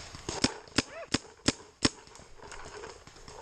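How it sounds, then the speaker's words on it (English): Paintball markers fire during a woodsball game outdoors, with five sharp pops in a quick, irregular series, then fainter shots further off among rustling. "They're shooting at us."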